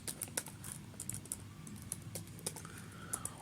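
Keys clacking on a computer keyboard while code is typed, a run of quick uneven taps with short pauses, close and clear with no voices.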